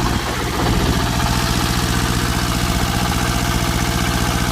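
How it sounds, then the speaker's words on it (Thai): A two-cylinder diesel engine on a used Japanese rice threshing machine idles close by, its steady low, pulsing knock running evenly throughout with no voices over it. "เครื่องดีเซลนะครับผม"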